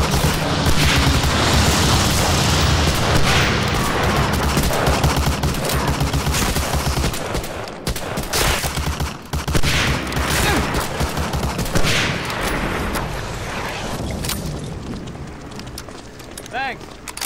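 Dense gunfire and booming explosions in the World War II shooter game Medal of Honor: Allied Assault, loud rapid bursts nearly nonstop, with shouted voices mixed in.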